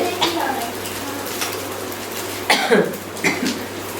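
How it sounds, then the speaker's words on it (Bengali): A few sharp coughs in the kitchen while cooking, set off by fumes from freshly ground spices: ginger, cumin, dried red chilli and garlic. Two close bursts come about a second apart over a low steady hum. "এতটাই কাশি হচ্ছে"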